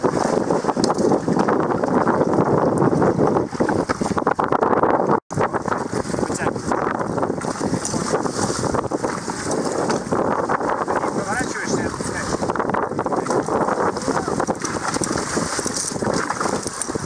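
Wind blowing across a sailing sports catamaran on the water, a constant loud buffeting rush against the microphone with one brief dropout, while people talk over it.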